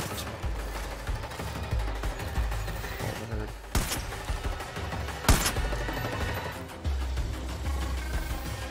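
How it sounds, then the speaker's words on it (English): Rifle shots boom out in a Far Cry 5 firefight, with loud sharp cracks near 3.7 and 5.3 seconds standing above a dense, continuous bed of game gunfire and rumbling action. "That's the sniper rifle again."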